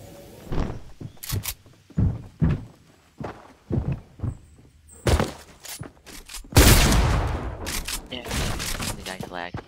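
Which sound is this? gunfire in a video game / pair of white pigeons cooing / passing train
gunfire in a video game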